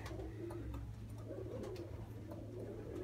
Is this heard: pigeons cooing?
yes